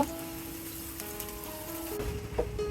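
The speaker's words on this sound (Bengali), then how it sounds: "পেঁয়াজ কুচিটা দিয়ে দিব এক মিনিটের মতো ভেজে নেব" Chopped onion frying in about half a cup of oil in a pan crackles and sizzles steadily, with a few utensil clinks and a brief louder clatter near the end.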